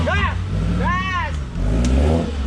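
An off-road vehicle's engine revs hard on a forest trail, surging in loud bursts and easing between them, with a voice calling out over the engine.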